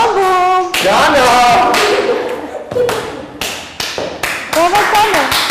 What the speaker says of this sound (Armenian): ձեռքերով ծափ, ծափ